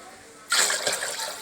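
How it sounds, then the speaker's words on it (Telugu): Water is poured onto old rice in a pot for Telugu coconut rice: a faint background hum gives way to a sudden close rush of splashing, gurgling liquid that keeps flowing steadily. "మనం ఇది ఇంకా నీళ్ళు పోసుకొని బాగా ఉప్పు వేసుకొని"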